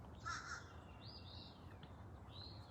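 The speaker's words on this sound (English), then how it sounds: "Their caw is so menacing." A crow caws several times, harsh drawn-out calls spaced across a few seconds, fairly distant against a quiet outdoor background.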